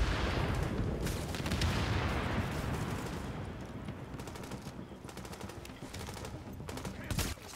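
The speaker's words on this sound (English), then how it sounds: "They're just shooting through this." Gunfire in a video game set at Grand Central Station, played on hard difficulty: sustained rapid bursts and volleys of automatic fire, loud and close at first and then continuing as scattered sharp shots.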